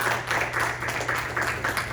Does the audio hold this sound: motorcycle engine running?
no